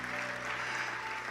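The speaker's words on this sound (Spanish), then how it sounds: "Dale ese aplauso al Señor, Él se lo merece." Church congregation applauding during a sermon, a steady, dense wash of clapping that stays even and fairly quiet throughout the short stretch with no voices over it.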